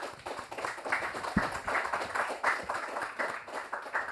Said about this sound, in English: So please give an applause to our panelists.